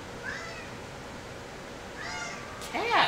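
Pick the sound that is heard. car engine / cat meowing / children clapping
cat meowing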